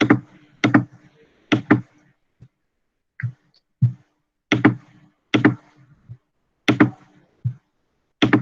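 Keys are struck on a computer keyboard while ipconfig is entered in a command prompt, a sparse series of sharp separate clacks and taps with short pauses, close and distinct in a quiet room.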